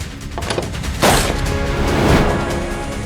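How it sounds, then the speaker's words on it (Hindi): A single loud gunshot-like bang rings out near the middle, preceded by some mechanical clicks, with a noisy, reverberant background throughout. "गोली चली।"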